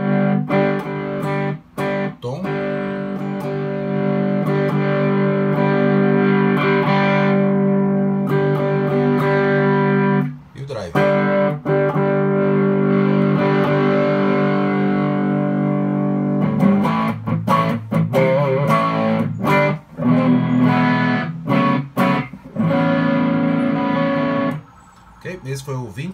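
An electric guitar runs through a booster and drive pedal on a vintage setting, giving long, distorted sustained chords broken by brief pauses and a few choppy strums.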